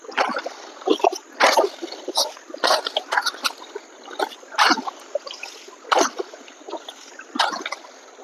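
Water flowing along a farm irrigation channel, heard close up as a steady run of splashing, trickling and gurgling with repeated louder splashes throughout.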